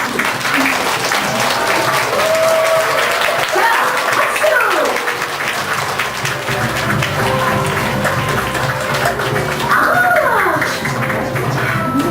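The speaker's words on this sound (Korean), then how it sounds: "힘찬 박수 소리와 뜨거운 함성으로 응원하며 지켜보죠." An audience claps steadily and loudly throughout, with cheering and shouts rising above the applause, while a voice speaks over the crowd.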